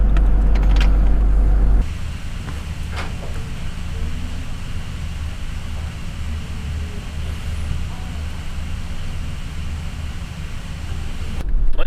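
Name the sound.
car driving into town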